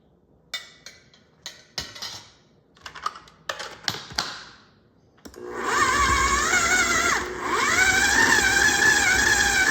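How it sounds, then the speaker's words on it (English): Several short bursts of clattering come first as a food processor chops soaked dates, then a loud, steady motor whir starts and keeps running with a brief dip in pitch. "In a food processor."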